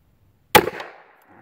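A single sharp gunshot from an old Ortgies .25 auto pistol, a loud close crack after a second of quiet, followed by a short decaying echo.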